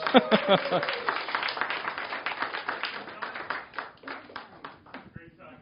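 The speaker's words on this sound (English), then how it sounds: "I'd like you all to give a big round of applause and hearty welcome to John, YL, and Juanetta." An audience claps in welcome as people are called up, with a voice talking over the start, then clapping thinning into scattered individual claps before dying away.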